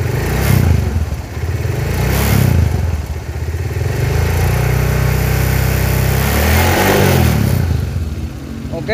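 A motorcycle engine idles and is revved near the microphone, its steady loud drone rising and falling in pitch. A rattling noise shows at light throttle and fades as the revs climb.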